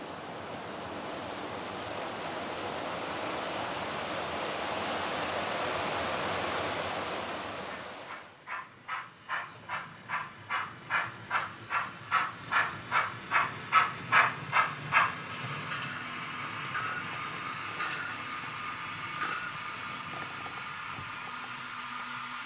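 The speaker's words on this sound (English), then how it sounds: "let's run some trains first" A model train pulling new freight cars runs past on a layout, a rhythmic series of clicks growing louder and then trailing off after a stretch of steady hiss.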